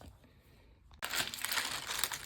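Plastic bags taken from cereal boxes crinkle and crunch loudly and close up, a sudden burst of dense rustling that starts after a quiet second and continues steadily with no talking.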